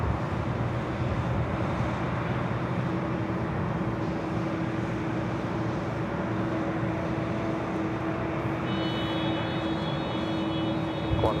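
A Qantas Airbus A380 landing on runway 24 Right at Los Angeles airport, a steady far-off roar of jet engines and wind with a faint whine rising near the end, and no talk.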